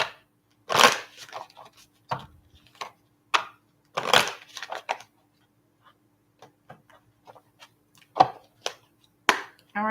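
Cards from a tarot or oracle deck are shuffled in short, uneven bursts of riffles and taps, some louder and close by, with quiet pauses between them.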